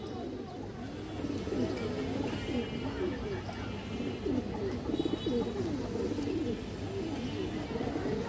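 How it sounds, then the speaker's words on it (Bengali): Pigeons cooing steadily in a continuous low, rolling chorus, close and fairly quiet, with a soft background hum throughout. "এই দেখেন একটা মাদি কবুতর, মাশাআল্লাহ খুব সুন্দর কবুতর"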